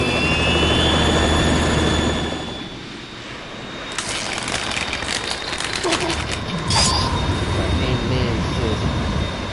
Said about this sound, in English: We're in trouble. It's the Harrier.